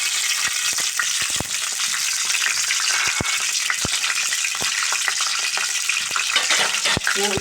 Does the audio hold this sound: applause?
no